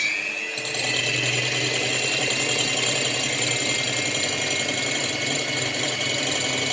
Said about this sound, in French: Donc là on laisse le fouet électrique faire.